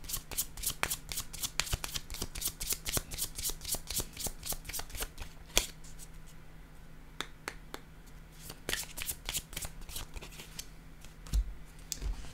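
A deck of cards being shuffled for a tarot-style reading, giving a rapid run of crisp riffling clicks and flutters that thins into scattered card snaps, close and moderately quiet, with no talking.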